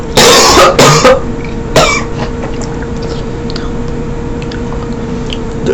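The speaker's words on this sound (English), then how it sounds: "Just ignore me coughing, alright?" A few harsh coughs in quick succession, then a single cough a moment later, over a steady low hum.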